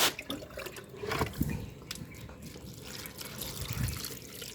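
Water pours into a pot holding a lotus plant, a soft close splashing and trickling with a few louder gurgles, fairly faint throughout.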